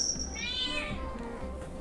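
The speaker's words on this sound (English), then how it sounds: "Hold on, my cat's yelling at me." A house cat meowing, a single drawn-out rising yowl close to the microphone over faint room background, with no talk.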